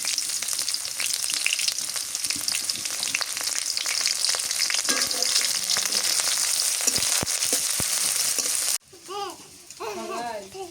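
Chopped onion and green chillies fry in oil in a pan with a loud, steady crackling sizzle, broken by a few stirring clicks, before the sizzle drops away near the end and a voice speaks.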